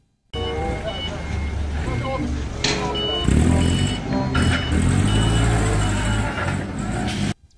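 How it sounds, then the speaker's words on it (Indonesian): A forklift drives with its reversing alarm beeping repeatedly over a loud engine rumble, and a voice talks alongside. "Forklift."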